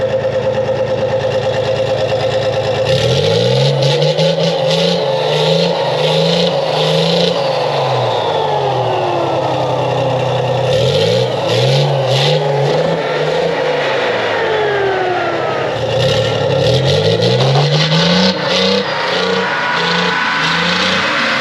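An armoured vehicle engine (AMX13 tank, ERC90 or AML90 armoured car) cranks and fires up, then revs loudly in repeated rising and falling surges, up close, with a steady idle rumble between bursts and no talking.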